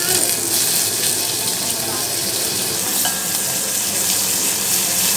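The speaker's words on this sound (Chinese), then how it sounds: "每邊大概煎30秒至1分鐘度啦，就 OK 嘅。" Precooked beef tongue sears in a pan, giving a steady, even hiss of frying that runs unbroken at close range.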